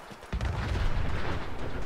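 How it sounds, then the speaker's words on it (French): Gunfire in Fallout 4: a dense, sustained burst of booming shots that starts abruptly and keeps rumbling loudly for under two seconds, with no voices over it. "J'entends des coups de feu."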